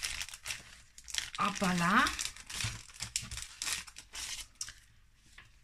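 An envelope of mail is opened with brief paper crinkling and rustling bursts, near and fairly quiet, and a short spoken exclamation in between.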